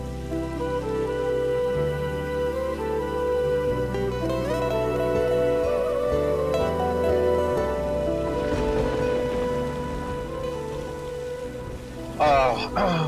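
Steady rain patters in the background beneath sustained music, the downpour's hiss continuous throughout.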